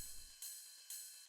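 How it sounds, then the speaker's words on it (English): A techno-style ride cymbal sample: two shimmering metallic hits with a long washy ring, close and alone, following a low thump at the start. "and then I have a ride cymbal."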